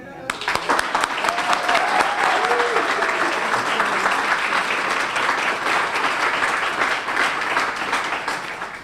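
A large crowd at an evening awards gala for children's advocacy gives a loud, sustained round of applause for an honoree, dense clapping filling the room throughout, with a few faint voices underneath.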